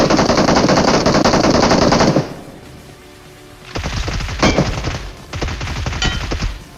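Gunfire from the BGMI (Battlegrounds Mobile India) battle royale video game: a loud sustained burst of rapid automatic fire, a pause, then two more bursts of rapid shots, all close and without talk.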